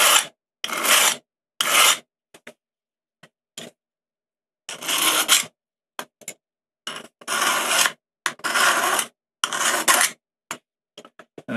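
A file rasps against the metal teeth of an ice climbing tool in a series of short, sharp, separate strokes, some longer and some quick, close and clear with silence in between.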